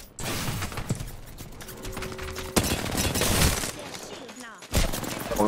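Gunfire from an Apex Legends Arenas match, quick bursts of shots crackling near and far amid mechanical game effects, with voices talking over the exchange.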